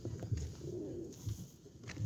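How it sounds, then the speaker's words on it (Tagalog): Several pigeons coo softly and repeatedly nearby while foraging for food outdoors, low murmuring calls recurring through a steady background. "may mga kalapati na ulit"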